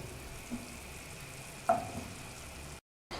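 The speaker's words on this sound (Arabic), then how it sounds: "داك الفرينه اللي رميتها في البصل والزبده حمرتها شويه في الصوص بشاميل" Flour browns with onion and butter in a pan for a béchamel sauce, giving a low steady sizzle close by, with a small knock and a brief utensil clink, then a short cut to silence.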